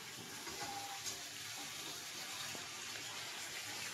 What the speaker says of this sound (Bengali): এবার জলটা দিয়ে দেওয়া হবে ওর মধ্যে।